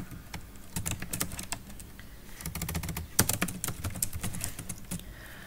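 Fingers tap on a computer keyboard while writing HTML code, irregular bursts of crisp keystrokes close to the microphone with brief pauses between runs, no speech.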